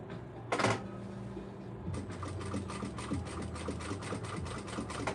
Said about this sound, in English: Let's finish sewing this up